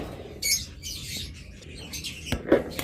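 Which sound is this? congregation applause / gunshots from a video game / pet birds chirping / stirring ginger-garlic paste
pet birds chirping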